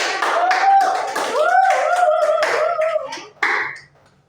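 Classroom applause during a microteaching chemistry lesson: a short burst of many hands clapping together, with voices mixed in, fading out toward the end.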